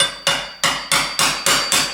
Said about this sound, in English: we carefully bend that area bigger in that way, and we hammer a little bit